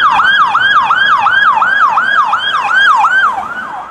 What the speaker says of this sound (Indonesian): Wah, mobil patroli polisi.